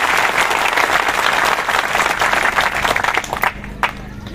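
An audience at a religious satsang gathering in Khalghat, Madhya Pradesh, bursts into loud, dense, sustained clapping. The clapping thins into scattered claps near the end.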